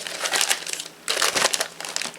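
A zippy plastic bag from a scrapbooking kit crinkles loudly and close, in two bursts of dense crackling separated by a brief pause.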